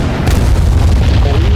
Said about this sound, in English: blowing up missile depots with rockets